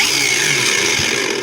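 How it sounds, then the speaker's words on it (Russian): A SHIDOKU cordless angle grinder runs close up after being switched on, a loud, steady motor whine with a bright high tone that holds throughout. "Включаю болгарку."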